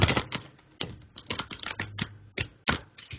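Quick, irregular flutters and slaps of stiff tarot cards being shuffled and tapped, close up, with no talking.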